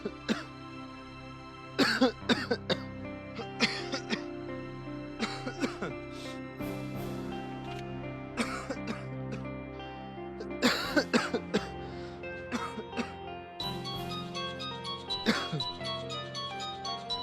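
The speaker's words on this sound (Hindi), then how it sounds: "बहुत खांसी हो रखी है।" Repeated coughing fits and throat clearing from a person, sharp bursts spread through the clip over steady tonal background music, with no talk.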